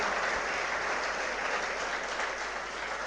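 A hall audience applauds at a civil services toppers' felicitation event, a thick, even wall of clapping that stays steady throughout with no talk over it.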